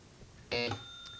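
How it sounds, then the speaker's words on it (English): A single short electronic quiz buzzer at an academic bowl match sounds in quiet surroundings, lasting a fraction of a second, followed by a faint lingering tone. "The buzzer came first, Bill."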